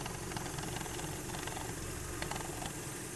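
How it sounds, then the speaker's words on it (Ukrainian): A steady, even idle from the 1.6 MPI petrol engine of a 2008 Volkswagen Golf 5 runs throughout, a constant low rumble with slight vibration and hiss, close by and unchanging. "Мотор не димить, не троїть."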